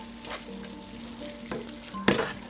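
Broth poured into a hot pan of onions for French onion soup, a continuous close sizzle with a few sharp spitting bursts and light stirring clatter.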